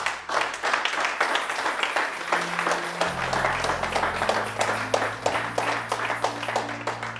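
A church congregation applauding to acclaim the Lord with steady, sustained clapping from many hands that stays even and fairly close. A low sustained organ or keyboard tone shifts pitch beneath it.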